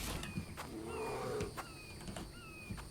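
Low growling and grunting from a bear in the survival game The Infected, rising and falling over about three seconds against ambient game sounds and faint bird-like chirps, with no talk.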